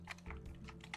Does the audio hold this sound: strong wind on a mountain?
no